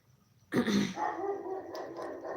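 A dog lets out a single loud bark at close range, followed by a rough, drawn-out growling tail.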